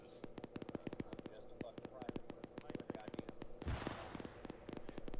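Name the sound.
mortar rounds exploding on enemy pit, from a video game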